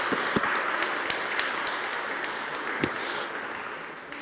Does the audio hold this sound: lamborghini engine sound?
no